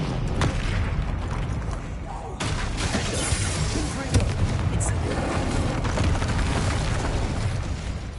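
Confringo and Incendio spell blasts in a video game go off as loud booming bursts with crackling fire and impacts, repeated over several seconds while a voice calls out.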